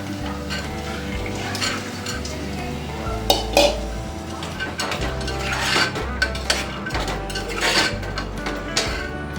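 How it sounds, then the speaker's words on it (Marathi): White peas go into a cooking pot with potatoes and spices, bringing clanks of metal utensils against the pot, scraping stirs and a few sharp clinks over a low background hum, close and fairly loud. "आणि हे सफेद वाटाणे मी घालून घेते"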